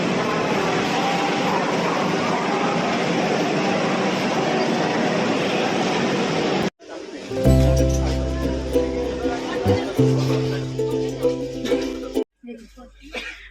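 A train heard from inside: a steady broadband rumble of the moving carriage, then a sudden change to station noise with a low sustained horn-like drone, people talking throughout.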